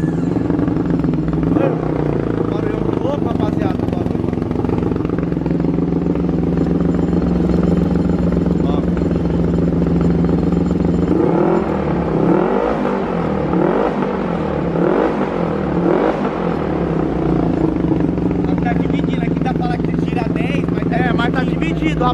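A Riva 500R motorcycle engine with a programmable CDI idles loudly and revs up in several bursts midway, running continuously with voices talking over it.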